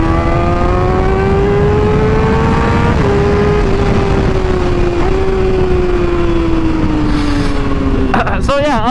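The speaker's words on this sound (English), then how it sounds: "This bike rides like it's new still" A 600cc motorcycle cruising steadily, its engine note holding a smooth, fairly even pitch that dips slightly near the end, loud and close throughout, with a short burst of other noise at the very end.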